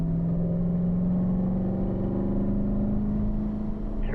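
A Corvette on a track run gives a steady, close, buzzing engine drone whose pitch climbs gradually as the throttle is squeezed back on, with no talk over it.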